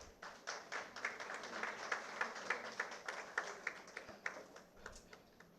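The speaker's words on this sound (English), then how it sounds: "A huge round of applause, please." Sparse, fairly faint clapping from a small audience at an academic opening ceremony, individual claps distinct and rhythmic across a few seconds.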